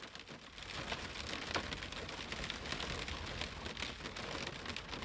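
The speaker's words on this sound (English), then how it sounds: "I'm sitting here in the rain on the Oregon coast" Steady rain falling on the Oregon coast, a dense, even patter of drops on surfaces with no pauses or voices, moderately soft and continuous throughout.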